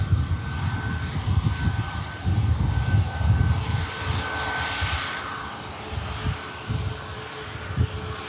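An airliner landing at Manchester Airport brakes hard on maximum auto braking, a loud, steady, broad roar of engines and rushing air that rumbles on without a break.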